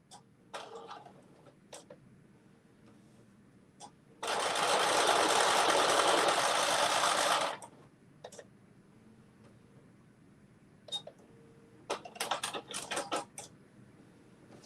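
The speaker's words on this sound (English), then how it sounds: "we have sewed around the perimeter of all of these 4 pieces" A sewing machine stitches around the perimeter of zipper pouch pieces in one loud, steady run of about three seconds, framed by scattered clicks and fabric handling, with a few short stitching bursts near the end.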